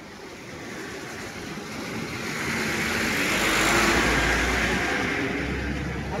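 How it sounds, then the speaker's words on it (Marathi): Floodwater on the Sina river rushes past near a highway in a continuous broad roar that swells gradually, with some wind buffeting. "पाणी बघायचं सीना नदीचं."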